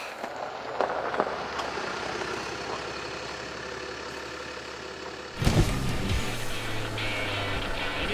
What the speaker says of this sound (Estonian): näe auto